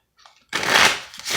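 A deck of Rider-Waite tarot cards is shuffled close by, a faint riffle and then a loud, dense papery burst of card flutter that pauses briefly and resumes.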